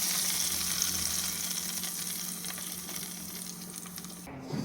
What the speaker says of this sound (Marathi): आत्ता ह्याच्यामध्ये मी फोडणी घालून येते